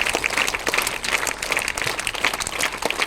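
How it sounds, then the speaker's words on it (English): Students at a school morning assembly clap for a classmate, uneven close-up applause with distinct individual claps pulsing throughout. "Give her a big round of applause."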